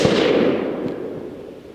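A single 6 ARC rifle shot with Hornady 80 grain ELD VT factory ammunition at a 100-yard range, one sharp loud crack with a short decaying echo tail, no talking.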